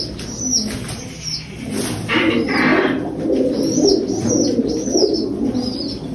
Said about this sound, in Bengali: এই হচ্ছে সম্বলপুরি পায়রা